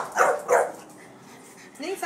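A dog barks twice in quick succession close by, short sharp yips, followed by a brief whine or soft vocal sound in a quiet indoor setting.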